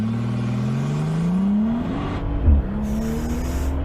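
Brabus G800 pulling away hard from a brake-boost launch, a loud, close engine note rising steadily in pitch, dipping briefly at a gear change with a thump, then climbing again under wind noise.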